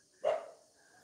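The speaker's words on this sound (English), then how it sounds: "See, there's a dog barking here," A single dog barks once at a distance on a street in Bali, a short sharp woof that fades quickly against a quiet background.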